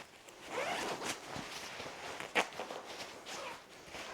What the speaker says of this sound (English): First, I'm just gonna unzip it.